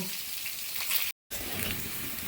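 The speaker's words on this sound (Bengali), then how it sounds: "আলুটা একটু লাল করে ভেজে নেব" Potatoes sizzle steadily in hot oil tempered with bay leaf and whole cumin, a close, dense frying hiss that drops out briefly mid-way, then resumes just as strongly.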